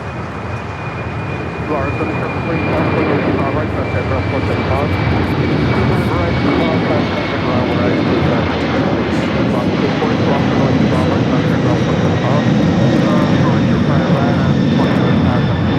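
A Boeing 747 takes off from LAX with early rotation, a loud, sustained jet engine roar with a thin high whine holding steady across the whole stretch, while a voice talks over it.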